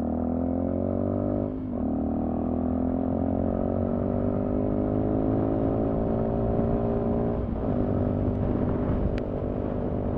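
A 2020 Sinnis Terrain 125 motorcycle pulling away through the gears, a steady droning engine note rising in pitch with two brief dips at the shifts, continuous and fairly close.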